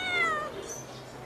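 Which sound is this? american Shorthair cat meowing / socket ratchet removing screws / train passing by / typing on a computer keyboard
american Shorthair cat meowing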